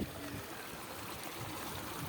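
Water flows steadily in a faint, continuous rush at a small reverse waterfall in the Konkan hills at Machal, with no other sounds over the low, even wash.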